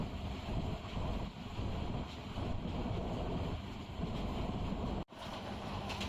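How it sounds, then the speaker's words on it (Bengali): Titas local commuter train running at about 66 km/h, a steady low rumble with wind rushing past, heard from on board. A brief dropout comes near the end, then the rumble resumes. "এই মুহূর্তে আমাদের ট্রেনের গতি হচ্ছে ঘন্টায় প্রায় 66 কিলোমিটার।"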